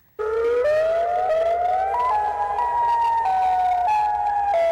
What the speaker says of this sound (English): the scariest siren tone is the alternating wail.